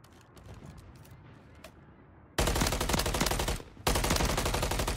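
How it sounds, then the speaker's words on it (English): Rapid automatic gunfire in the Call of Duty Modern Warfare 3 video game, loud dense bursts starting midway after quieter game ambience, with a brief pause before firing resumes. "Who the fuck is shooting at me?"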